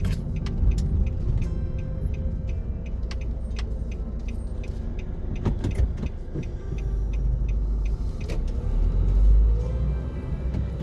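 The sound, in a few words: car driving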